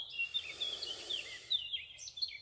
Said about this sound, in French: Je reçois les sons sacrés des oiseaux.